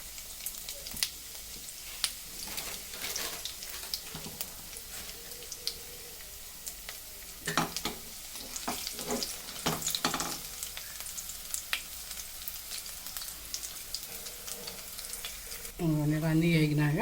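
Tempering spices including cumin frying in hot oil, a soft close sizzle with scattered pops and stirring clicks, and a voice speaking briefly near the end.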